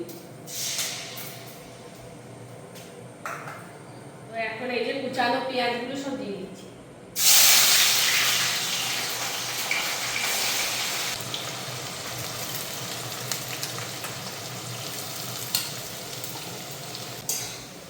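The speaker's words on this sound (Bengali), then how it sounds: "তেল গরম হয়ে গেছে তাই এখানে দিয়ে দিচ্ছি গোটা গরম মশলা আর দিয়ে দিচ্ছি শুকনো লঙ্কা আর দিয়ে দিচ্ছি একটু চিনি" Whole garam masala, dried red chillies and a little sugar hit hot mustard oil with a sudden loud sizzle that keeps up as a steady hiss, after some quieter clatter and handling.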